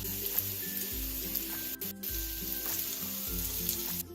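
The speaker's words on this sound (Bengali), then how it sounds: "হালকা গোল্ডেন কালার করে সব ধোকাগুলো আমি ভেজে নিলাম" Banana flower dhoka fritters sizzle in hot mustard oil, a close, steady crackling fry with faint stirring scrapes and brief gaps, no one speaking.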